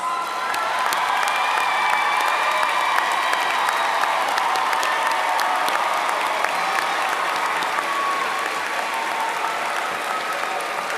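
A large university commencement crowd gives sustained applause for graduates' mothers, stepmothers and grandmothers, a dense, even roar of clapping with scattered cheers lasting the whole stretch.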